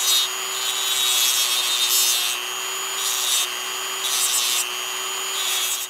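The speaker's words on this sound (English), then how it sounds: "So I'm going to take this little cutoff wheel on a Dremel, and I'm just going to carve back a little bit of that peening" A Dremel with a small cutoff wheel grinds peened metal on a 50-ton bottle jack, a high steady motor whine with a harsh grinding edge that rises and eases in short bursts as the wheel bites, close and loud with no speech.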